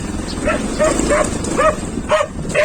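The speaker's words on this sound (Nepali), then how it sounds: "यो कुकुर त डेन्जर रहेछ" A village dog in Pokhare, Nepal barks repeatedly, about seven sharp yaps in an irregular rhythm, fairly close, while a person talks over it.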